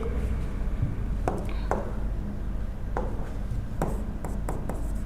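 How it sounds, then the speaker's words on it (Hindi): Chalk or marker writing on a board during a classroom lesson, heard as a handful of short scratchy strokes and taps spread over a few seconds against a steady background hiss, with no speech. "हम यहाँ पे लिखेंगे एक"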